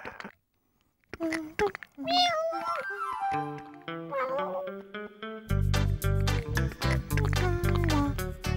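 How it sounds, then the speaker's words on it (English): A cartoon kitten gives several high, bright meows, with a childlike voice and animated music joining in as the scene gets busier. "Ah, it's a kitten."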